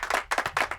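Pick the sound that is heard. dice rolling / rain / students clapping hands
students clapping hands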